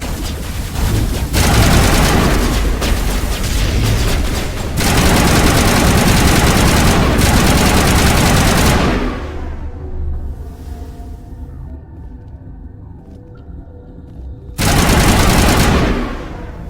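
Heavy sustained automatic gunfire in the video game Mass Effect, loud and continuous, fading into a low engine-like hum and then returning in another loud burst at the end.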